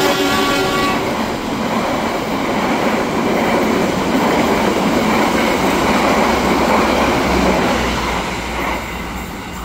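An Airlangga passenger train on the Jakarta–Surabaya line runs along the rails with a loud, steady rumble and rolling clatter that fills the whole stretch, with no voices over it.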